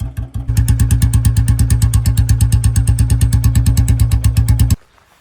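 Royal Enfield Bullet motorcycle with a bend silencer thumps out a loud, close, rapid and even exhaust beat that holds steady for several seconds, then cuts off abruptly into near silence.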